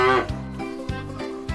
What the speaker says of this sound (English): It's a baby cow calling for his mother.